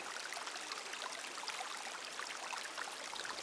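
The current of the Estéron river gurgles and rushes in a steady, even wash of water, with no other sounds.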